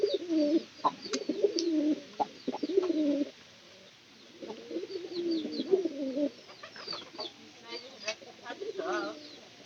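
Pigeons coo in a loft, repeated low throaty rolling calls in close clusters with short pauses, alongside a few sharp taps and faint background voices.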